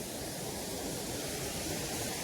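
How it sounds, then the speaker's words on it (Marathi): A swollen river in the Konkan rushes with force, making a steady, broad roar of water that holds even throughout, with no voices over it. "हे बघा पाणी किती खळखळ खळखळ खळखळ आवाज येतो"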